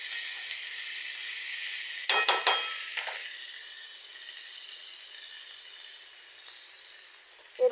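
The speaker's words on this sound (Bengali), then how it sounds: "এখন সয়াবিনটাকে একটু ভাজতে দেব।" Boiled soybean chunks and onion fry in a pan with a soft hiss, cut by a brief burst of clinks and scraping as a utensil stirs, then the sizzle fades lower and steady.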